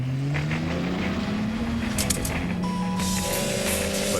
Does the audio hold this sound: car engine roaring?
yes